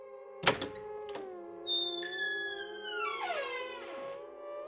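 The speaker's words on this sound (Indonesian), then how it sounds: "tiba-tiba terdengar suara pintu yang terbuka" A house door thumps and then creaks open with a long, wavering squeal, close and clear with no talking, as a spooky story sound effect.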